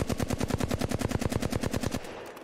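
Flatline assault rifle firing full-auto in Apex Legends, a rapid, steady burst of loud, evenly spaced shots for about two seconds, then a short decaying tail with no talk.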